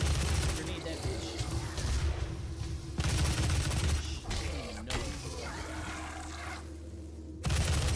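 Gunfire and a grenade blast in the video game DOOM (2016), loud dense bursts of shots and booms running throughout, with a voice talking over the fighting.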